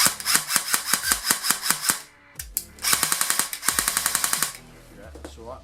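An Umarex MP5 airsoft gun with its original motor, running on a 7.4V battery, fires rapid bursts of sharp, evenly spaced clicks at close range, pauses, then fires another burst before winding down.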